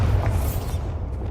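A Bombarda spell blast in Hogwarts Legacy, one loud close boom with a heavy low rumble that fades out over about a second.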